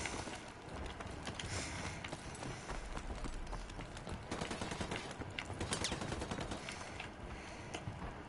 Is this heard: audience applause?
no